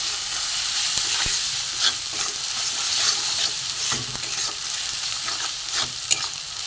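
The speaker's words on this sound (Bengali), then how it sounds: "একটু ভালো করে কষে নেবো মশলাটা।" Spice paste sizzles and fries steadily in a pan over low gas as it is stirred, with a continuous close hiss broken by soft scraping taps of the spoon.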